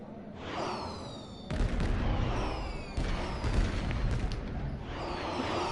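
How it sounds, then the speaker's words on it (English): Fireworks burst in the Star Trek Online video game, a dense run of booming explosions and crackle, with two heavy blasts landing close together among continuous loud popping. "Fireworks! Woohoo!"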